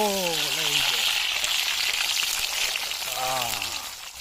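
Pork frying in hot oil, giving a loud, steady sizzle and crackle that runs the whole time, with a person talking over it near the start and again near the end.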